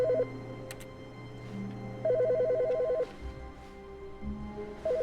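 A phone rings in The Stanley Parable: Ultra Deluxe, a rapid electronic trilling ring in repeated bursts with pauses between, over a low ambient drone.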